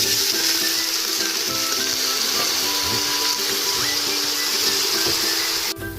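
Rooster chicken pieces sizzle loudly in a hot pan with onions, a dense, steady frying hiss close up that holds throughout, with faint stirring.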